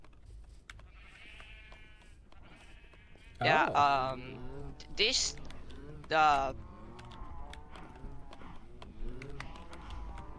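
Several bleating, moo-like animal calls from a cow farm in the Minecraft video game, loudest in a cluster of three near the middle, with fainter calls around them while people talk over the top.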